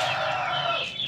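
Roosters just after a fight give a single loud, close, drawn-out clucking call that slides downward and fades near the end.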